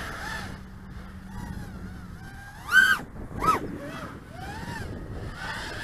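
An 1800KV brushless motor in a Hobbymate Comet VX220 RC car on a 6S battery whines in rising and falling sweeps, with two sharp, louder bursts of throttle near the middle over faint outdoor background noise.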